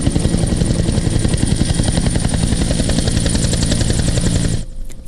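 A military helicopter of the Papua New Guinea Defence Force roars steadily close by as it flies in over a parade ground, its rotor chopping in a fast, dense rhythm before the sound abruptly drops away near the end.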